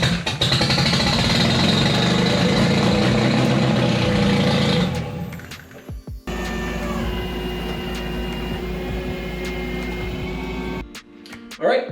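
A 1976 Toyota Celica GT engine running steadily after new wrapped headers are fitted, a loud continuous rumble that drops off briefly around the middle before picking back up and cutting out near the end.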